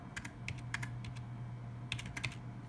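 Computer keyboard keys are tapped out in two quick clusters of clicks, an IP address being entered, close and fairly quiet over a low electrical hum.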